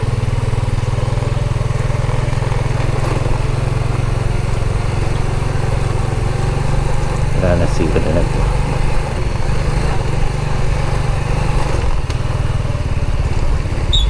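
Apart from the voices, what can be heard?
motorcycle engine running while riding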